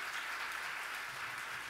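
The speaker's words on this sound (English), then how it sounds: "Round of applause for Dean Richards as well." Audience applause at a tribute evening honoring a radio host, dense steady clapping that fills the room, moderately distant and unbroken with no talk over it.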